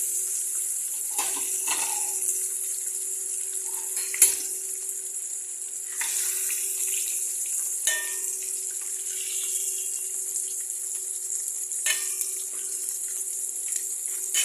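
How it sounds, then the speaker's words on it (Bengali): Eggs fry in hot oil, giving a continuous bright sizzling hiss that stays even throughout, broken by a few soft clinks and scrapes from a utensil, close by and with no one speaking. "দেখুন আমি ডিমগুলো ভেজে তুলে নিলাম।"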